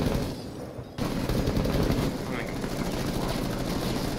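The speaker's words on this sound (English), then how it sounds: "Eric, someone's got sniped from there, so be careful." Gunfire from the tactical shooter game Rainbow Six Siege, a dense, continuous rattle of shots and noise that runs throughout, with a brief drop just before the one-second mark, loud and busy under the game's din.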